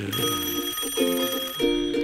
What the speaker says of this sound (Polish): Ktoś dzwoni!